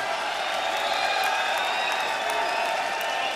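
Concert audience applauding continuously at a show, a dense steady wash of clapping with faint cheers, voting by applause for the evening's final song.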